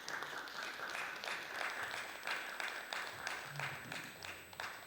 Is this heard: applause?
yes